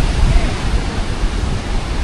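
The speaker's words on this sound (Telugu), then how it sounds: "ఆ వేవ్స్ సౌండ్ అది అయితే ఇంకా చాలా గట్టిగా అయితే ఉంది." Strong ocean waves crash and roar continuously at a Bali sea temple after recent rain, a loud, dense wash of surf with no break and no voices.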